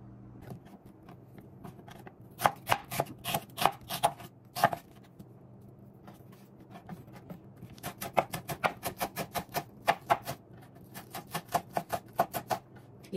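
A knife chopping an onion finely on a cutting board, quick bursts of sharp close taps in rapid runs separated by short pauses, crisp and fairly quiet with no talking.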